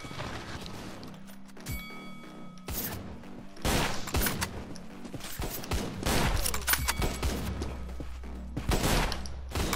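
A gold gun firing in a video game, a scatter of sharp shots and clacks spread unevenly over busy game noise, some loud and close, with mechanical clicks between them.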